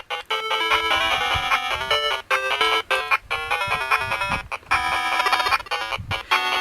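A repaired Sega Game Gear handheld blares game music very loud through its speaker, shrill bright tones in choppy bursts with brief gaps, close and harsh.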